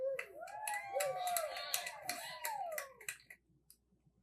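A small group of wedding guests claps briefly and sparsely at the introduction of a newly married couple, with a high whistle-like voice over it, fading out to near silence after about three seconds.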